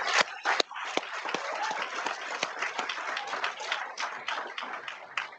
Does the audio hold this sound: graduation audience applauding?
yes